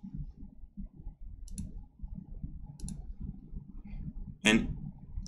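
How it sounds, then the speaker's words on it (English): Left mouse clicks while drawing a vector line in DesignShop V10 software, sharp isolated clicks recurring over low murmuring background noise, with one louder click near the end. "I'm going to left click just to make sure I don't mess up this side of it"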